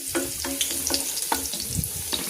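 Garlic frying in hot oil for adobong kangkong, a steady bright sizzle with repeated spatula scrapes and taps against the pan, close and loud with no talking.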